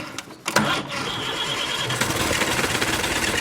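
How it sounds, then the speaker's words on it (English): An old Rolls-Royce diesel engine in a barley pickers' build, left for a year in a cowshed, cranks and catches, then settles into a loud, continuous rumbling run, close up. "The barley pickers have opted for a diesel engine, but after a year in a cowshed, will it spring to life?"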